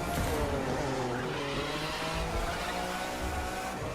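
Lamborghini Murcielago engine in a The Crew 2 race, a steady loud drone with shifting engine tones and some tire noise throughout, no talking.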